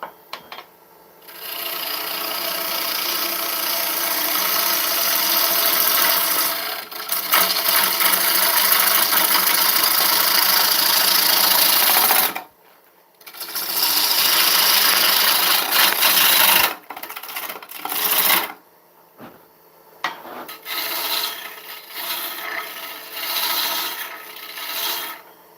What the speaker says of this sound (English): Back no, we're not, we're going to push cut it.